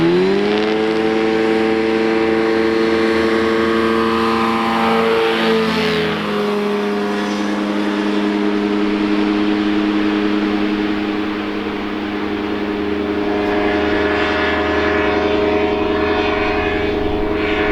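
A Phantom ultralight aircraft's engine drones loud and steady throughout, its pitch sweeping briefly as it passes or changes throttle midway, with no voices.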